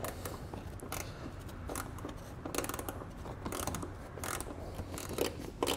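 Ratcheting tool clicks come from removing a Torx screw on a 2021 Mini Cooper fender, as a quick series of close, light mechanical ticks repeats over a faint background hum.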